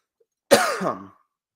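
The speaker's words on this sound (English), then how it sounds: "As this cough continues to annoy the fuck out of me" A single harsh cough bursts out close by, sharp at first and trailing off into a rough exhale, with silence around it.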